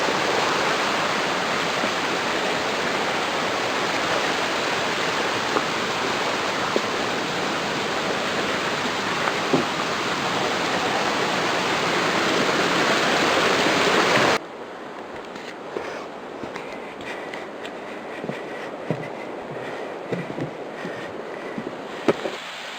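A forest creek on a wooded trail with bridges and mossy rocks flows in a steady, full rushing wash that drops abruptly to a quieter, thinner trickle partway through. The sound is continuous and close, with no voices.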